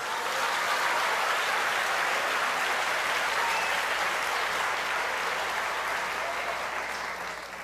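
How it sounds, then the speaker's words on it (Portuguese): A church congregation applauds at a worship service, a thick, continuous wash of many hands clapping loudly and evenly, easing off slightly at the end. "Pode aplaudir o Senhor"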